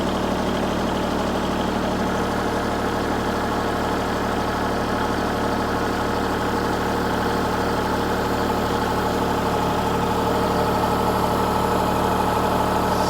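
A tractor engine held at a steady 1,500 RPM during a lift capacity test, producing a continuous, even mid-to-low drone with a constant level and no speech.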